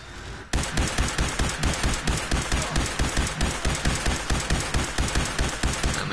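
Rapid automatic fire from a modded weapon in Fallout 4, a loud, steady stream of evenly spaced shots running continuously after a brief quieter lead-in.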